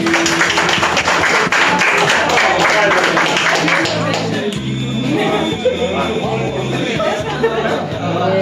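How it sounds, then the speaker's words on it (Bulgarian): Loud applause breaks out in a hall at a prom celebration, a burst of clapping and cheering that fades after a few seconds into crowd chatter while a voice speaks over it. "така че силни аплодисменти"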